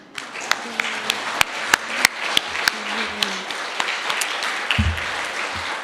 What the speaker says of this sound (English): Can we have one more clapping applause for these amazing musicians?